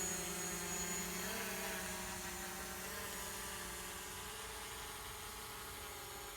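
A DJI Mavic Pro drone climbs to altitude, its propellers giving a steady whining buzz with a slight pitch rise, constant and fairly faint throughout, with no voices.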